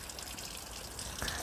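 Water gushes out and pours onto the front of an R33 GTR, a steady low splashing rush with a brief sharper splash near the end, no talk.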